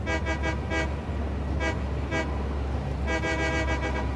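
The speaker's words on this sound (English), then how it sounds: "Lots of honking" A train horn in the factory-building video game Satisfactory honks repeatedly in short bursts: a quick run of four toots, a pause, two more, then a longer series, loud and close over a steady engine drone.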